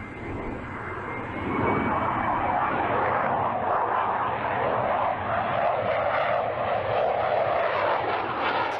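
An RQ-4A spy drone's aircraft engine gives a continuous loud, broad roar that swells slightly after the first second and then holds steady throughout.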